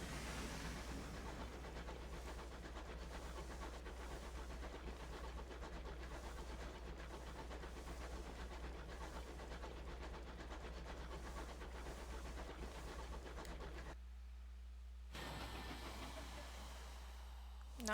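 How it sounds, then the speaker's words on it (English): Locomotive chugging in the video game Sunless Skies, a steady rhythmic puffing and rumbling engine loop running quietly throughout, briefly dropping out near the end before resuming. "I love the little train sound."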